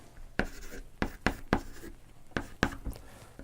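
A pen writes prime factors on paper in a handful of distinct, close scratchy strokes with short pauses between them, with no talking over them.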